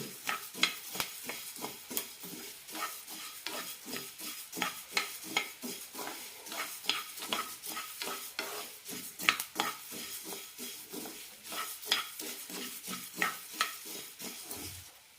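Whole spices for homemade garam masala dry-roasting in a pan, with rapid repeated scraping stirs of a spoon against metal and a soft crackle underneath, close and continuous.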